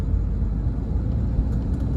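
A 2014 BMW 520d diesel car driving in comfort mode, a steady low interior rumble with no talk and no clear change in pace.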